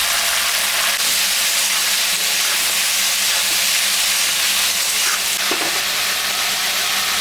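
A vegetable curry, seasoned with salt and turmeric, fries loudly in a pan with a dense, continuous close-up sizzle and hiss and no voices.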